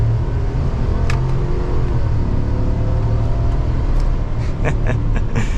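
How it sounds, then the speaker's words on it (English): A large V8 engine rumbles steadily as a 2023 GMC Sierra 1500 AT4X pickup truck drives off and picks up speed, with a few light clicks and rattles on top. "let's take this truck for a spin"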